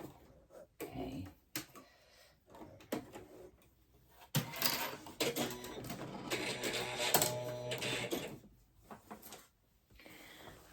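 A home sewing machine stitches a 5/8 seam in short bursts of whirring with pauses between. The stitching runs close and fairly quiet, with no talk.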